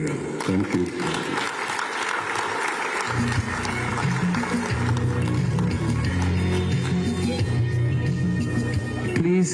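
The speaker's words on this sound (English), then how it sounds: "please, another round of applause for Baba once again" Sustained applause from an audience at an anniversary celebration for Independent Newspapers in Nigeria, steady and dense throughout, with a low hum and voices mixed under the clapping.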